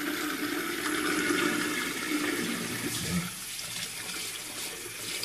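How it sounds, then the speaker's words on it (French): Warm tap water running onto a shaving brush as it is rinsed, a steady close splashing stream into a sink that changes tone briefly partway through, with no talking. "pour le blaireau, il faut tout simplement déjà le rincer. Voilà, le rincer bien comme il faut."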